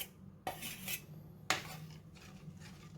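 Semolina batter being stirred in a pot by hand while more mixture is poured in, for making green pea papad; a couple of sharp metallic clinks of the utensil against the pot stand out over soft scraping and a low steady hum.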